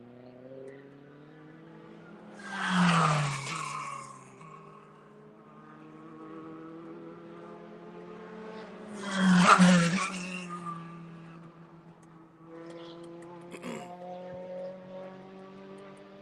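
Race cars at an SCCA club race on a road course pass by one after another, two loud whooshing engine passes swelling and fading with engine drone between, moderately distant.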